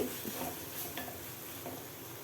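Mushroom stuffing stirred in a pan as the water cooks off, with a soft close sizzle and scraping stirs, quiet and without talk.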